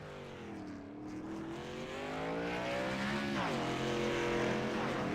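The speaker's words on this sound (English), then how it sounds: "We do have cars on the track." Race cars on track during qualifying, engines droning steadily with rising and falling revs as they drive, loud and continuous with a shift in pitch midway.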